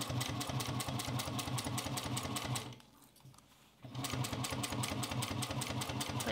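Juki 1541s sewing machine stitching fabric along curves, a fast steady mechanical chatter that pauses briefly midway and then resumes, close and continuous, with no speech.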